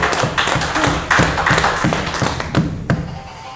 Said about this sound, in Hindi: तालियों से इस्तकबाल किया जाए।